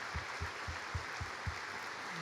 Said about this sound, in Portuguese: Você pode dar uma salva de palmas para a vida dessas pessoas?